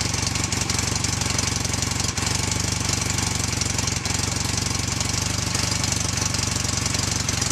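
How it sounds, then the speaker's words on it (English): A motorcycle engine idles steadily after starting, a loud, continuous mechanical chugging with a regular knocking pulse, close and unbroken, with no talking over it. "we're going to go ahead and start up the bike"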